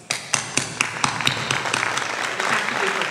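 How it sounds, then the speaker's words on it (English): At an award event, sharp separate claps start the applause for nominee Barbara Briggs, then build into a denser patter of clapping with faint voices underneath. "I have to give her personal applause"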